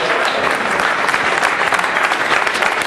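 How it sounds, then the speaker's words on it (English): An audience at a startup community address breaks into loud, sustained applause, dense clapping filling the whole stretch at an even level with no voices over it. "you all deserve a round of applause"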